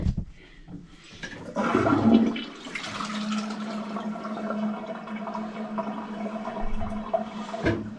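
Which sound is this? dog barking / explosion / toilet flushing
toilet flushing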